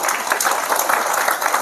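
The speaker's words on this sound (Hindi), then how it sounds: "अपने लिए ताली बजाओ।" A group of children claps for themselves during a moral education talk, with a short, busy patter of applause close by.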